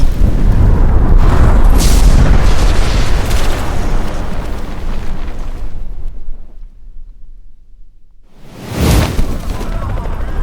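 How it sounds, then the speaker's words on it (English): Explosions boom in the distance, a dense rumbling barrage that cuts off into near silence before another heavy blast bursts out. "Danny Ruidoso looked up at the latest explosion in the distance."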